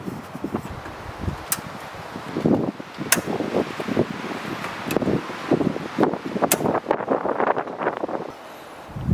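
Strong, bitterly cold wind blowing outdoors at a farmhouse in winter, a continuous loud rush with gusty buffeting against the microphone and brief sharp rattles throughout.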